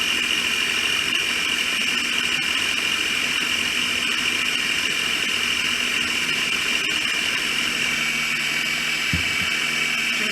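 A steady, loud motor whir of a blender pureeing beans, running continuously, with a constant high hum and churning texture throughout.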